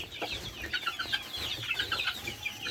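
Farm chickens on a poultry farm cluck and chatter in a busy overlapping cluster, close by and fairly quiet, with no talk.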